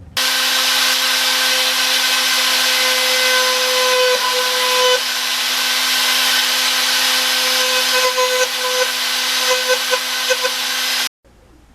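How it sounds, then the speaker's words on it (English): A Dremel rotary tool with a burr cutting through a carbon fiber motorcycle fairing, a loud steady high-pitched whine that holds for about eleven seconds, wavering slightly as it bites, then cuts off abruptly. "I'll do it with a Dremel tool and a burr that's made to go through without catching."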